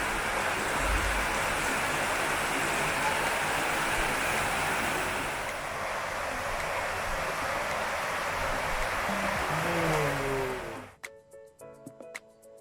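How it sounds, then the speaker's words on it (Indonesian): Clean river water at the Cipandak bridge in Cianjur rushes steadily in a broad, continuous wash that stays loud for about ten seconds, then drops away abruptly into near silence with a few faint tones. "ternyata ada sungai yang indah di sini"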